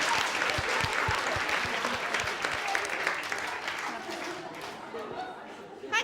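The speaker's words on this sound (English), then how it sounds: "Let's give them a clap." A crowd applauds steadily and loudly, the clapping gradually fading toward the end, with some chatter mixed in.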